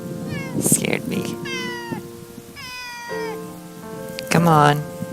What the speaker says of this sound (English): Oh, look at the cat.